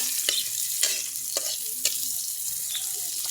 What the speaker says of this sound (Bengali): আমার কিন্তু পেঁয়াজগুলো ভাজা হয়ে গেছে